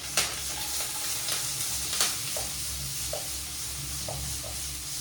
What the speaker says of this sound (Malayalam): ഇനി നമ്മുടെ കറിവേപ്പില ചേർത്തിട്ട് എൻ്റെ അകത്തോട്ടിടാം